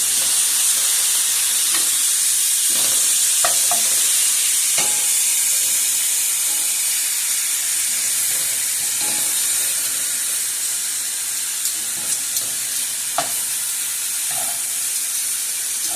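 Turkey wings brown in a hot pan with a loud, continuous sizzle and hiss of frying fat, plus occasional soft clicks and pops throughout, with no voices.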